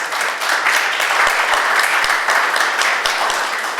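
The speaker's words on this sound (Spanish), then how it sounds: "lo recibimos con un aplauso al maestro Roberto Rico Ramírez" An audience gives a loud, sustained round of applause to welcome a guest teacher, dense clapping close by that holds steady throughout.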